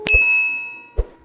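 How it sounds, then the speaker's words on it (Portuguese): Notification bell sound effect: a bright metallic ding that rings out with a long shimmering decay, followed by a second softer strike about a second later, clear and alone. "Também ative o sininho para receber as notificações das próximas postagens"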